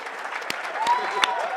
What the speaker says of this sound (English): I'm going to take a picture of you clapping.